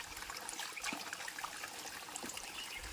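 Water trickles steadily over rocks, a soft continuous babble with light splashing and no voices.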